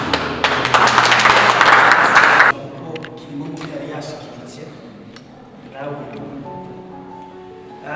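A crowd claps and applauds loudly for about two and a half seconds, then the clapping stops abruptly and a voice speaks.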